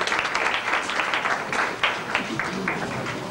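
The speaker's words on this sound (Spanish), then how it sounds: "Un fuerte aplauso porque yo creo que por este gran gesto de la Fundación, ese será un recuerdo inolvidable de nuestro." Sustained applause from an audience at a ceremony inaugurating the first traffic light in Pedernales: dense, steady clapping that fills the whole stretch with a few sharper peaks.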